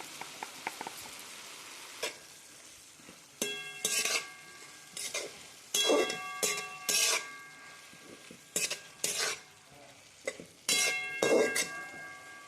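Cabbage sizzles and fries in a pan while a utensil repeatedly scrapes and stirs, with occasional metallic clinks against the pan.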